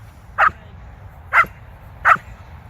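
German Shepherd puppy barking on command, three short sharp barks spaced about a second apart, close and clear over a low background rumble.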